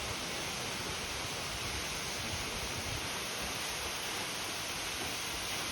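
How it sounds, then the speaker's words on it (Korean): Daehae Waterfall on rocky Geumho Mountain roars loudly and steadily after a day of rain, a dense unbroken rush of falling water filling the whole stretch with no voices. "폭포 소리가 정말 우렁차네요"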